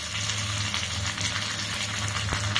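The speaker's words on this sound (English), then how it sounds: "Going to fry the mustard, red chilli, curry leaves," Mustard seeds, red chilli, curry leaves and onion frying in hot coconut oil for a dal tempering, a steady dense sizzle close by with no pauses and no talk.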